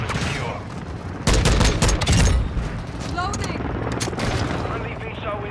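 Rapid bursts of video game gunfire from Call of Duty Modern Warfare, with a loud cluster of shots in the middle and lighter firing around it, heard close under a player's talk.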